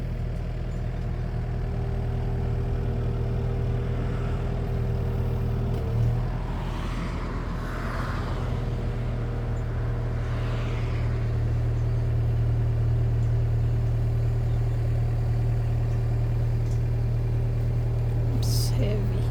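A John Deere GX355 lawn tractor engine runs at a steady low idle-like drone as it drives forward, moderately loud and close, with faint human sounds over it.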